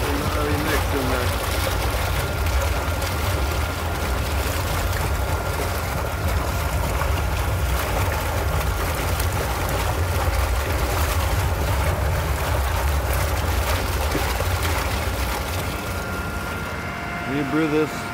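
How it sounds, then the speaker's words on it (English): Air blowers bubble and churn continuously in a compost tea brewer tank on an aquaponic farm, a loud steady rushing gurgle with someone talking over it. "you can see the air blowers blowing"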